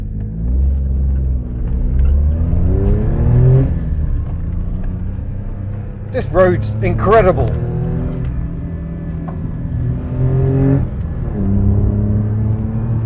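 The 989cc engine of a Daihatsu Handivan L700 van accelerates through the gears on an open road, a close droning hum that rises in pitch several times, with someone talking over it.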